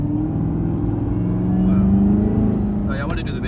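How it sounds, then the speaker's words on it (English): A 2019 Chevrolet Camaro ZL1 idles and revs with a deep throaty exhaust rumble that swells and holds. A voice speaks briefly over it near the end. "It has that like throaty exhaust sound and everything."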